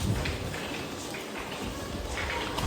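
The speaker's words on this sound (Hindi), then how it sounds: "इतनी ज़बरदस्त बारिश हो रही है ना" Heavy rain pours down outdoors in India during a monsoon-season Raksha Bandhan visit, a dense, even hiss of falling water that stays steady and close throughout with no talk.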